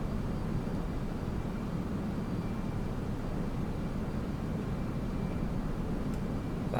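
Steady, even roar of an A-6 Intruder jet flying a circuit in Microsoft Flight Simulator, a constant broadband engine drone with no talk.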